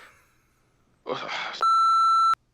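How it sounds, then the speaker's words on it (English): A censor beep cuts in as a single sustained electronic tone lasting under a second, loud and steady, right after a short burst of speech. "I'll make the beep longer."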